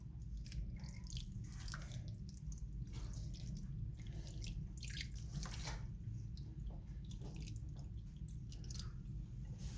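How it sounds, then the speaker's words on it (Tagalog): Water pours steadily into a pan of fish paksiw already seasoned with vinegar and a little salt, a continuous trickling and splashing lasting the whole stretch at moderate, even loudness. "yan lagyan natin ng tubig"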